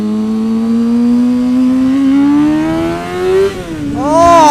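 Kawasaki ZX6R 636 sport motorcycle accelerating hard on a road, its engine note climbing steadily in pitch through one long gear, then dropping briefly at a shift before rising again, loud and close.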